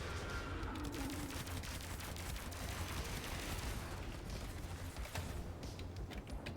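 Gunfire in the Warframe video game: dense, continuous bursts of shots and impacts run loudly throughout with no letup, mixed with other in-game effects.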